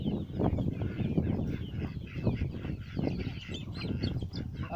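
A flock of ducks quacks and honks continuously nearby on a farm with chickens, a busy overlapping chorus of calls.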